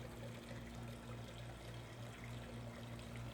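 A pot of water boiling on a steady roll to clean a deer skull, a constant bubbling wash with a low hum beneath, heard alone and close.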